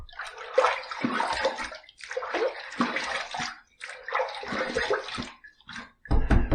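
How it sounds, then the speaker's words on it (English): Water is splashed by hand onto a face before a wet shave, in about five separate close bursts of sloshing and dripping, with no talk. "All right, a few nice splashes."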